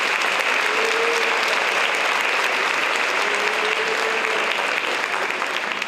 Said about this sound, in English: So parents, please give yourselves a nice round of applause.